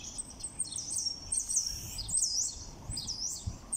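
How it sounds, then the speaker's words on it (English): Mediterranean birds sing in the morning in a Spanish town street, several high chirping and warbling calls repeating over a soft rumbling outdoor background, fairly close and clear. "You hear the birds, that's Mediterranean birds in the morning"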